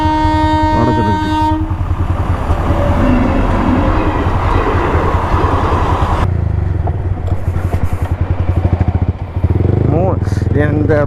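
A train rumbles past a railway level crossing with its horn sounding at the start, heavy rolling wagon clatter continuing loudly close by, while a voice talks over it from a motorcyclist waiting at the gate.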